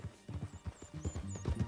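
Horse hooves clip-clop in a rhythmic series of thuds in Red Dead Redemption 2, close and moderately loud, with a faint whinny-like tone above.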